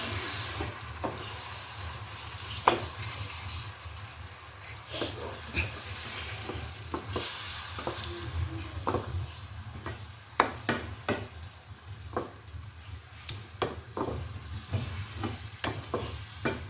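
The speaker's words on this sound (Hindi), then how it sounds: "अब इस कीमे को हम जो है प्याज के साथ बहुत ही अच्छी तरह भूनेंगे।" Marinated beef mince fries with onions in a pan, a low steady sizzle over a background hum, punctuated by frequent sharp scrapes and taps as it is stirred, with no voices.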